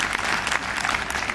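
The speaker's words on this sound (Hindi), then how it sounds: "एक बार अपने लिए जोरदार तालियां बजाएं भाई" Brief burst of enthusiastic clapping from a group at a yoga class, dense and close, lasting about a second and a half.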